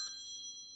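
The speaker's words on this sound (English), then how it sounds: "sorry, just got a phone call." A phone rings with a brief, faint electronic tone, a single short burst of high, steady pitches heard alone.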